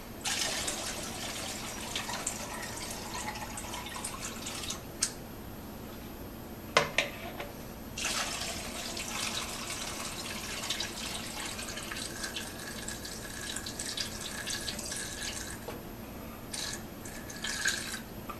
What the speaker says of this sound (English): Now, I just want to add more water.